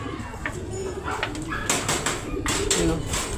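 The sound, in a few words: young racing pigeon returning home, cooing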